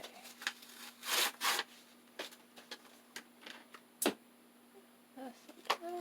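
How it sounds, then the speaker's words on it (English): Laminated paper being trimmed for a junk journal collage page: a series of short, crisp cutting snips and rubs, close and fairly quiet, arriving in irregular bursts with brief pauses between them. "I'm just going to trim it off"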